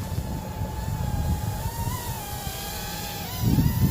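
A SYMA Helifury 360 RC helicopter flying outdoors in gusty wind makes a continuous whining motor tone that wavers in pitch, while low wind buffeting rumbles underneath and swells near the end.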